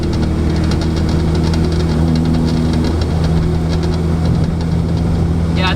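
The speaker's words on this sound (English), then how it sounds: "my O2 sensor is rattling" Car engine idling with a loose O2 sensor rattling near a freshly fitted header, a loud steady hum with a fast metallic buzzing rattle running through it, close up.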